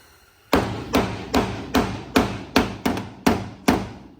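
A hammer beats out a dent in a Ford car door with nine sharp metallic blows at a steady, slightly uneven pace, each ringing briefly, close and loud with no voices.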